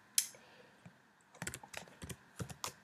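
Computer keyboard keys tapped as a password is entered, one sharp click followed by a pause and then a quick irregular burst of key presses, close and fairly quiet with no talk.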